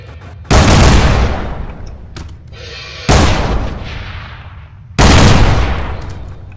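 Gunfire in the video game People Playground: three heavy, booming shots spaced a couple of seconds apart, each loud and close with a long decaying rumble between them.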